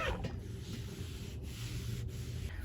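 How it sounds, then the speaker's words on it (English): A hot iron is pressed and slid over interfacing laid on cotton fabric, making a soft, continuous rubbing hiss that stays faint and steady throughout, with no voices. "And then we just need to iron that down."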